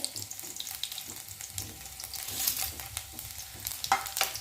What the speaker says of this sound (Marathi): लसण थोडा परतून घेऊया